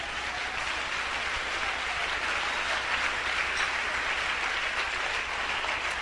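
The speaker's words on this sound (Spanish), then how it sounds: "¡Dele un aplauso!" Steady, dense applause from a congregation at an evangelical church service in Colombia, a continuous wash of clapping from a large crowd with no break across the whole stretch.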